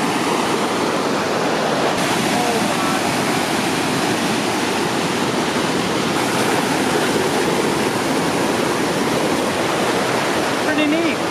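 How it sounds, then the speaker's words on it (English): A waterfall seen from its top on the Skerwink Trail in Newfoundland roars loud and steady, a dense continuous rush of falling water that fills the whole stretch without a break. "I think we've now made it to the top of the waterfall"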